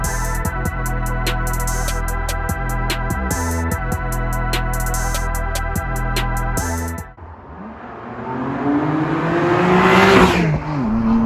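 A 2021 BMW M2 Competition with the S55 engine, heard after a stretch of rhythmic music: a quick throttle blip sends the revs sweeping up and then dropping back, loud and close.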